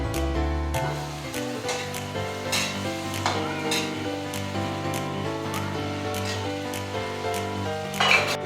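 Food sautés in a hot pan with a steady, close sizzle and occasional utensil clinks, continuous throughout with no talking.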